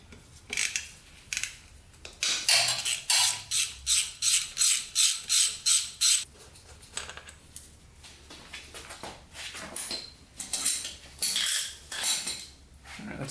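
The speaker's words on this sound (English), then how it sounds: "let's take off this cover and then the timing chain tensioner" Metal parts and small bolts clatter and ratchet as a cover comes off the engine of a Yamaha Warrior 350 ATV, beside its timing chain tensioner. A rapid run of regular clicks is followed by looser handling and scraping, all close up, with no talk.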